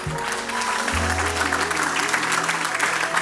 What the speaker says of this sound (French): Est-ce qu'on peut applaudir la louange, s'il vous plaît?